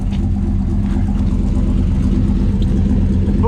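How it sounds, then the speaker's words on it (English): A deep, throaty Mopar big-block truck engine burbles steadily at close range through a single exhaust, a low exhaust drone with no talking over it. "I do like this single exhaust."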